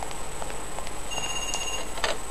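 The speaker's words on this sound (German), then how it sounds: "Telefon." A telephone rings in the video game Parasite Eve II, a thin electronic tone over steady background hiss, heard briefly on its own without talk.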